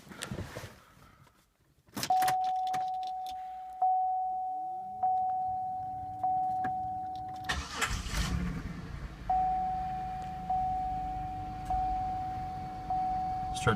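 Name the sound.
2005 Pontiac Bonneville SLE engine starting up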